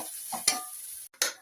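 Chopped salted drumstick leaves stirred in a hot pan give a soft, constant sizzle broken by a few brief scraping strokes over little more than a second.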